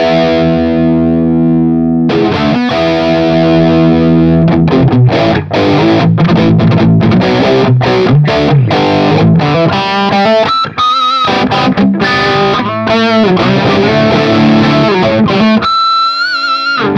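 Heavily distorted electric guitar on the gain channel of an amp run through a Weber Mass 100 reactive attenuator with Marshall cabinet impulse responses, playing a loud, continuous riff of sustained chords and fast chugging notes with no talking.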